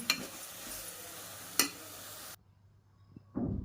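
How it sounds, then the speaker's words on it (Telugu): Ivy gourd, onion and chili masala fry in a pan over a low flame, giving a soft steady sizzle with a few stirring scrapes. The sizzle cuts off abruptly partway through, leaves a short quiet gap, then a brief scrape returns. "స్టవ్ సిమ్లోనే పెట్టుకొని వేయించుకోండి"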